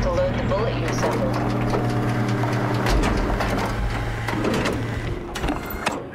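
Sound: pilot seat machine activating in Soma video game

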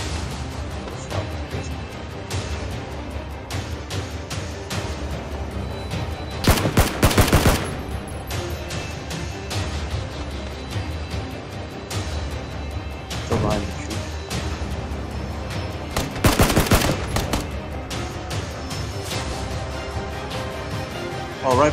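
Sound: gunfire in the video game PUBG

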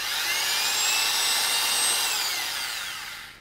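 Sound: drilling holes in a homemade respirator mask

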